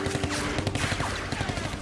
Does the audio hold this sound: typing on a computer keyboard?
no